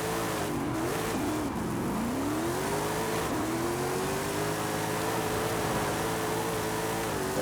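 Car drifting sideways in Forza Horizon 5, a steady loud engine drone with wavering pitch and continuous tire squeal throughout, no talk.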